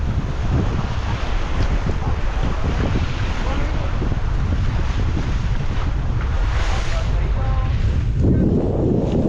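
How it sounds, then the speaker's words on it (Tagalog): A boat pushes through choppy water near Rapu-Rapu heading to Legazpi, waves slapping and heavy wind buffeting the microphone, a constant loud roar throughout. "bangka"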